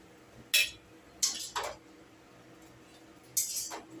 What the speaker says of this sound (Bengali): এবার এই পর্যায়ে আমি এরকম মিক্সির বাটিতে তুলে নিচ্ছি।